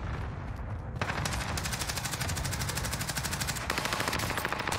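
Rapid automatic gunfire in Call of Duty Warzone, a loud continuous burst of evenly spaced shots after a brief lead-in, close and dense.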